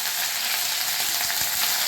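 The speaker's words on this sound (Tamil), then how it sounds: "இப்போ இந்த கருவேப்பிலை" Curry leaves crackling in hot oil in a pan for a chilli onion idli dish: a dense, continuous sizzle with small pops, loud and close, no voices.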